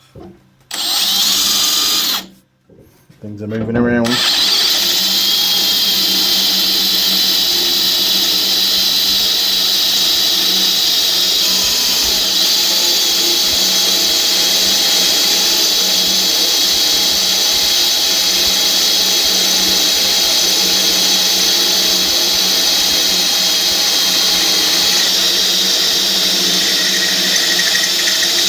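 A power drill with an extension bit runs continuously in a workshop, a loud steady whine broken by brief pauses near the start, then holding on without a break.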